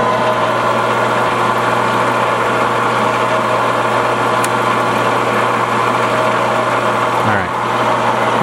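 A metal lathe spindle fitted with a Grizzly MT5 collet adaptor hums steadily at speed, a loud continuous motor whine close by that begins winding down near the end.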